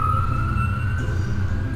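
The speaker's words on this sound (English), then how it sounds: "Shut up, police sirens." Police car sirens wail steadily and close, a continuous tone held over a low rumbling background for a couple of seconds.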